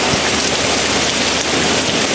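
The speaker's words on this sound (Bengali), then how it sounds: "কিন্তু রাত্রে আবার বৃষ্টি।" Heavy rain pours at night in a village, a loud, dense and unbroken hiss of drops hitting surfaces nearby, with no voices over it.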